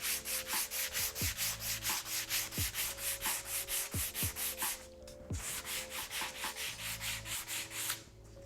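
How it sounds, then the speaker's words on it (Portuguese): Handmade surfboard fin being sanded with 120-grit sandpaper, loud close rhythmic back-and-forth rubbing strokes in a steady, even pulse with one brief pause, no talk. "Agora vamos lixar por último com uma lixa 120."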